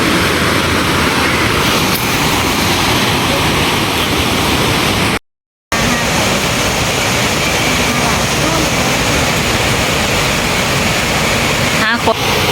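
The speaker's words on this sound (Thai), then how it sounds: "นี่เลยน้ำตก" Steady broadband roar of a waterfall at a scenic spot in Ratchaburi, Thailand, loud and continuous close by, with one brief break partway through and no clear talk over it.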